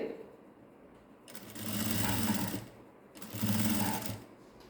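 A sewing machine stitches a hook strip in two steady bursts of whirring, each lasting about a second and a half, separated by short pauses, close and clear.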